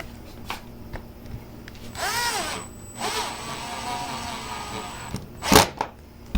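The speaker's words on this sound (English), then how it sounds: "drill all the rest of them back in" A power drill drives a screw into a 3D printed multi-board in a home workshop: two whirring bursts of a few seconds each, the first with a rising and falling pitch, recorded close and loud, followed by a sharp clatter.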